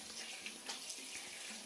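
Steady hiss of running water, like a shower spraying before bedtime, continuous and moderately quiet with faint splashy variations and no voices.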